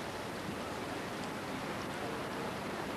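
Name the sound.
heavy rain falling on Wimbledon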